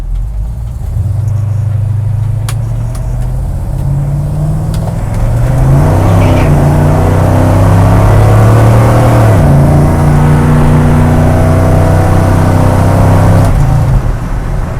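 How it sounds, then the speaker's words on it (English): Classic car with an old 318 V8 accelerating away from an intersection, a loud close engine roar rising in pitch through a gear change, heard from inside the car. "This little old 318 sure makes a crap ton of power."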